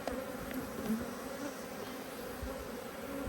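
Honey bees swarming around an opened hive during a frame inspection, a dense continuous buzz from many insects close by with faint tonal whines, no talking.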